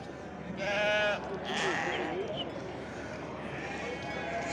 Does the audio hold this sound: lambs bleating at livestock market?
yes